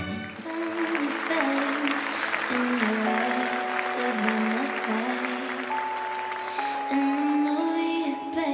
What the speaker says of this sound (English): Round of applause, let's hear it for all of them.